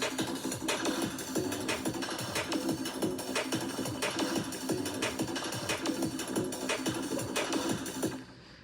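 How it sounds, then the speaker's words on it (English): Mechanical percussion loop layered with a sampled conga topper loop plays steadily and loudly, dense rhythmic hits repeating without pause before cutting off near the end. "And then I just added like a conga topper loop from the loop sampler library,"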